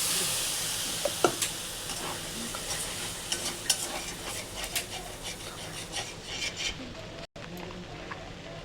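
Spice paste and onion fry in a pan, a steady close sizzle and hiss broken by occasional stirring scrapes and clinks, with no talking.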